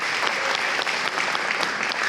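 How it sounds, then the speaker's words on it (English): Audience applause at an awards ceremony, a steady patter of clapping from a crowd that continues throughout. "A round of applause for him, please."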